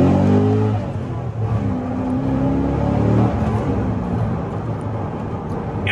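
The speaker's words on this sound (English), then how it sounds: "when you put your foot down, this car goes" A Corvette C6 Z06 sports car engine pulls hard under acceleration, a continuous loud rising roar heard from inside or close to the car.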